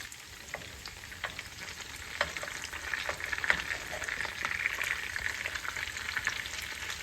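Cod cakes frying in oil in a non-stick pan, a steady close crackling sizzle with scattered small pops as the cakes are nudged around.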